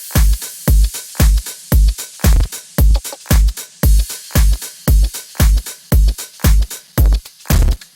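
Future funk beat section with a looping shaker, an offbeat hi-hat and bursts of white noise, bright percussive hits repeating in a steady, even rhythm, loud and alone with no voice.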